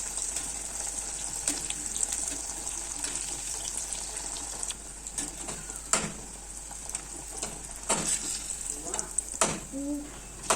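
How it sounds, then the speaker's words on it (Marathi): Fenugreek and mixed-flour vadis deep-frying in very hot oil, a continuous fizzing sizzle broken by sharp clinks and scrapes of a slotted spoon, close by, with faint voices in the background. "गरम कडकडीत तेलात तळून घ्यायच्या तांबूस रंगावर तळून घ्यायच्या"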